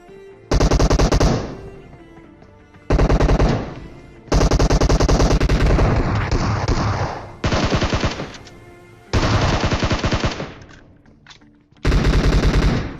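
Loud automatic gunfire in a video game battle comes in long sustained bursts separated by short pauses, close and dominating the scene.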